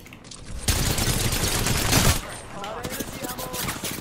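Dense video game shootout gunfire, loud and close, rapid shots blurring into a continuous roar before easing into lighter crackling bursts.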